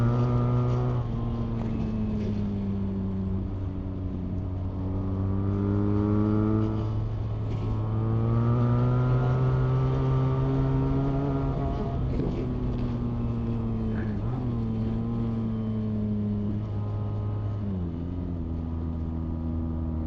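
A BMW R1300RS sport-tourer with a 1.3-litre boxer twin accelerating hard, its engine note rising steadily through the revs and dropping briefly at each gear change, loud and close throughout.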